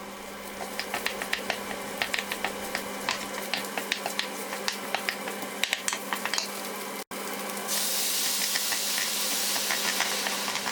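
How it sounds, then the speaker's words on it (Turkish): Onion with tomato paste and pepper paste sautéing in a pan on high heat, a steady sizzle with scattered crackles and pops and spoon stirring, then a brighter hiss late on, no talk. "Böyle yüksek ateşte kavuruyorum."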